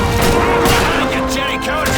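Continuous World War II gunfire in the Call of Duty 2 desert battle at El Alamein: dense rifle and machine-gun volleys with booming blasts, loud and close, with shouted voices mixed in.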